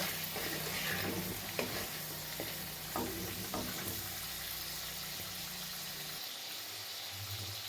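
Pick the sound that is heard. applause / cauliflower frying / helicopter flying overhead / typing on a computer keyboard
cauliflower frying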